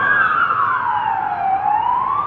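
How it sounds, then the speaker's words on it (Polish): A Polish police car siren wails loud and close, its pitch sweeping slowly down and back up in a continuous cry with road noise beneath. "tam podjeżdża jakiś radiowóz policji i skręca w tą, w tą uliczkę tam jakby do nas"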